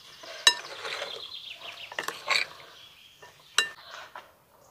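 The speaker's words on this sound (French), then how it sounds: "On mélange, on va laisser mariner un petit peu." Vegetables being tossed in a small salad bowl to marinate, with scattered clinks and scrapes of utensil against the bowl and a few sharper knocks, close and fairly quiet.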